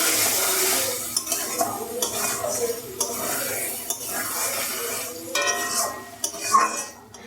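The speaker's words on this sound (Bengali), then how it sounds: "এবার এর মধ্যে একটু চিনি দিয়ে দেব, দিয়ে একটু নাড়াচাড়া করে নামিয়ে দেব।" Ridge gourd poppy seed curry with sugar being stirred in a pan, a steady sizzle under repeated scraping and clinks of a utensil against metal, close and fairly loud throughout.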